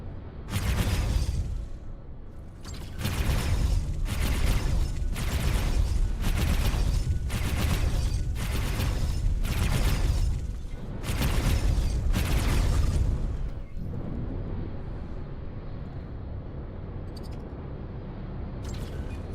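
Mortar turret firing in the space game X4: a rapid series of heavy, booming blasts, about ten in close succession at an even rhythm, loud and dense, followed by a quieter rumbling drone.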